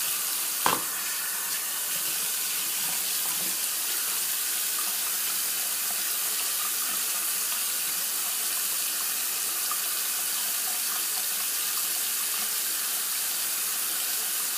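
Tap water runs steadily into a sink to rinse a shaving razor, a constant close hiss and splash with a small knock near the start and no talking.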